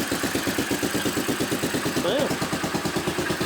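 A Honda farm bike engine idles close by with a rapid, even putter, the leaking makeshift exhaust adding a chuffing pulse, while a voice briefly speaks over it.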